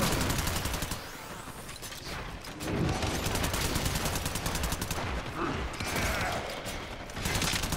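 Twin Vipers pistols in the video game Warframe fire in rapid automatic bursts, dense crackling volleys separated by short pauses, loud and close.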